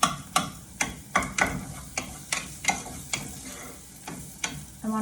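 Onions frying in a pan for Roma-style shrimp and spaghetti, with a steady rhythm of sharp stirring clacks roughly every half second over a soft, continuous sizzle, close and alone.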